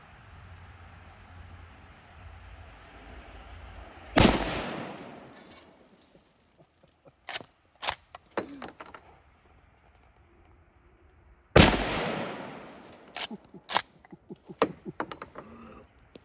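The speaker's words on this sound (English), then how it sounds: "Cimarron 1886 lever gun in 4570. Let's see how it shoots." Two loud booming shots from a Cimarron 1886 lever-action rifle in .45-70, each followed by a ringing decay and several sharp metallic clacks of the lever cycling, outdoors with no talk.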